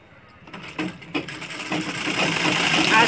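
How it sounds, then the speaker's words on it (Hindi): Sewing machine stitching a dhoti shalwar, a steady mechanical whir that builds and grows louder across the clip, with a few soft knocks early on. "आसन तक हम उसकी सिलाई ले लेंगे।"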